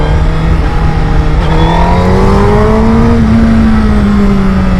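Honda CBR 1000 RR SP superbike at wide-open throttle, the engine note climbing steadily in pitch and cutting briefly as it takes clutchless upshifts, loud and close with constant wind rush throughout.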